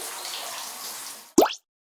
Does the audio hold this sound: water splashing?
yes